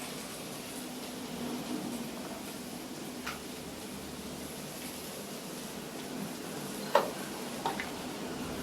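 One large chopped onion sautés in oil with a pinch of salt, giving a soft, steady sizzle with a few faint utensil clicks over it.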